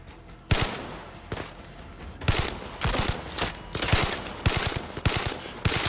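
Gunfire from a weapon in the shooter video game Zero Caliber comes in rapid bursts, repeated volleys of sharp close shots separated by short gaps, with no talk over them.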